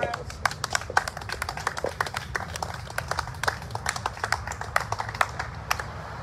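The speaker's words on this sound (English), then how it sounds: "I want everybody to give a round of applause for these comrades." An audience at a community commemoration event gives a round of applause, with steady, crisp hand claps close by and fairly even in rhythm throughout.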